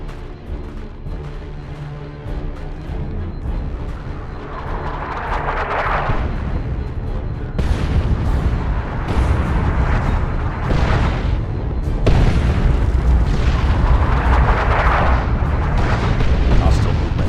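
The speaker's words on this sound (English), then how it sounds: "The traitors are laying down a barrage to soften us up." An artillery barrage in the Warhammer 40,000: Dawn of War II – Chaos Rising game rolls on as a continuous low rumble, with heavy booming impacts surging and overlapping, louder toward the end; no words are spoken.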